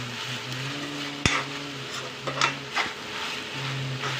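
A spoon stirs tomato sauce and mayonnaise together in a bowl for a cheese paneer sandwich, giving a few soft scrapes and taps against a low steady hum.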